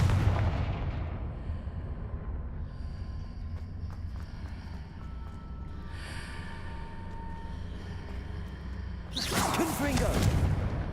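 Confringo blasting spell cast in Hogwarts Legacy, a fiery magical blast with whooshing bursts over a rumbling game background, ending in a loud close burst near the end.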